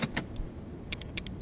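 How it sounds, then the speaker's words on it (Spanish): In the FNAF Plus horror video game, the Chica animatronic makes a hollow, bucket-like metallic clanking heard as a handful of short, sharp clinks over a steady low background hum. "Ese es el sonido de chica. Suena como un balde cuando se va para ahí."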